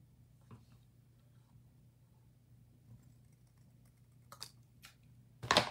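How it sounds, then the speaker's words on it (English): Scissors snip through a small piece of paper for a botanical leaf print card: a few sharp, crisp cuts near the end, the last one loudest, over a quiet steady room hum. "I think this is small enough that I can just use my scissors"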